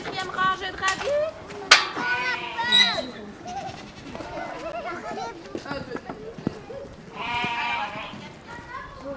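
Goats bleating in a meadow, several repeated wavering calls near and mid-distance, mixed with people talking over the animals throughout.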